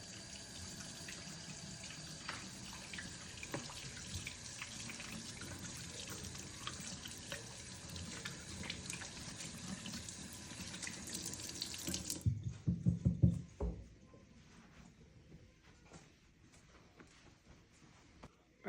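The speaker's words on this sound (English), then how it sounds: "we're gonna take proper hygiene precautions and we're gonna wash our hands" Tap water runs steadily into a sink as hands are washed before making sushi, a continuous close splashing that cuts off near the end, leaving faint drips and handling sounds.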